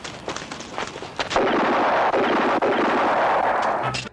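Revolver gunfire in a movie shootout: a few sharp, rapid shots in the first second, then a loud, sustained blast of gunfire noise that fills the rest of the clip, with no talking.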